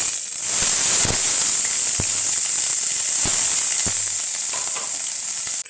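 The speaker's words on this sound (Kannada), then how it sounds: "ಈಗ ಆನಿಯನ್ ಹಾಕ್ತಾಯಿದ್ದೀನಿ" Sliced onions dropped into hot oil with whole biryani spices such as cinnamon, cloves and shahjeera, a loud continuous hiss close up with a few sharp crackling pops.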